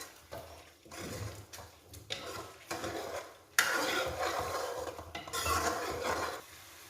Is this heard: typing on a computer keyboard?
no